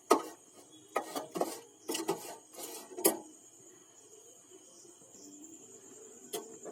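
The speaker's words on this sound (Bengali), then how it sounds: "এবার আমি এটাকে চামচ দিয়ে ভালো করে মেখে নেব।" A spoon scrapes and mixes hilsa fish with poppy seed paste water in a bowl, giving several quick rasping strokes over the first three seconds, then near quiet with one more brief scrape near the end.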